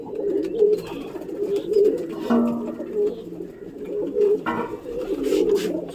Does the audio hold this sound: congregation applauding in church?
no